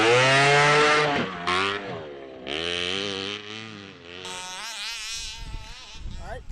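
A gas-powered HPI Baja 5B RC car screams at full throttle on a snowy motocross track, its high buzzing engine rising and falling in pitch as it revs, close and loud, with no talking.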